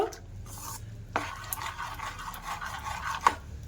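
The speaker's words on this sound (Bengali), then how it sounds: "আর যে জলটা আমি ফুটিয়ে নিয়েছিলাম ওই জলটা চালের গুঁড়োর মধ্যে দিয়ে দেব। দিয়ে বেশ ভালো করে গুলিয়ে নেব।" Rice flour is stirred with boiled water into a batter for batasa pitha: soft, continuous scraping and swishing in a bowl with a few sharper clinks, close and fairly quiet, with no talking.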